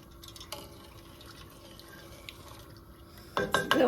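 Hot sweet pickle brine of sugar and water is poured into quart canning jars of pickle spears, faint drips and trickles building to a louder liquid splash near the end.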